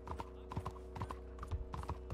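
Horse hooves clip-clop in Red Dead Redemption 2 Online, a steady trotting rhythm of paired hoof strikes, fairly close and even, with no talk over it.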